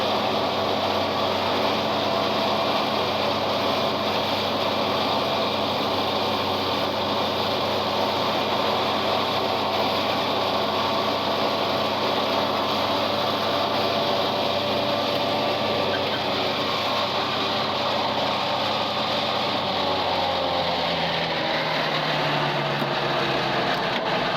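A tractor-drawn mower cutting a narrow strip of grass for balage, a loud continuous engine drone with steady mechanical whir that holds throughout and eases slightly near the end, no voices.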